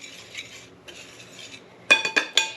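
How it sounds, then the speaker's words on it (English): Dry ingredients for lemon blueberry scones are stirred in a mixing bowl, two soft scraping passes followed by three bright clinks of utensil against the bowl, close and without talk. "I'm going to mix all this up. So it's all combined."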